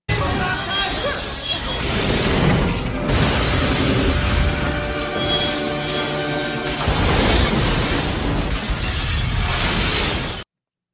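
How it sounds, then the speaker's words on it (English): Movie scene of glass shattering and a house exploding, with loud continuous crashes, breaking debris and booming blasts filling the whole stretch, a brief lull near the start, and faint voices mixed in. "Glass starts busting. The whole house literally explodes."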